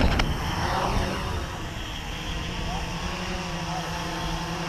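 A small FPV radio-controlled airplane, an Eagle Tree Vector setup, drones steadily overhead as it comes in to land, a continuous buzzy motor and prop whine over outdoor wind noise at moderate distance.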